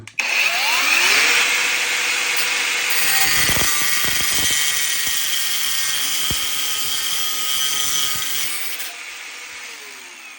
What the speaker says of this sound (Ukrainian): Давайте ще відрізамо ось таку шпильку товщиною 10 мм.